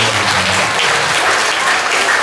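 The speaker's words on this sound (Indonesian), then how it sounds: "Tepuk tangan." An audience claps loudly and continuously at a Ramadan religious talk, a dense, even wash of applause from a crowd close by with no pauses.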